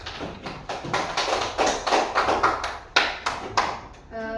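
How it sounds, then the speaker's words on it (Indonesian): A classroom group claps for a discussion group, a dense, rhythmic round of applause that fades out toward the end. "Terima kasih untuk kelompok 2. Beri aplaus."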